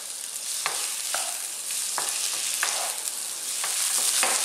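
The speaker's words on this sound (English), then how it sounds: "let's just stir fry these around. We're not on a crazy heat, as you can hear." Mushrooms stir-fried in a pan over moderate heat give a steady soft sizzle, broken by light scrapes and clacks as they are tossed around, with no talking.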